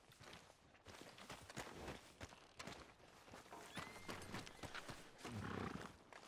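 Steady clip-clop of horse hooves at a walking pace in Red Dead Redemption 2, fairly faint and continuous, with a soft snort or whinny near the end.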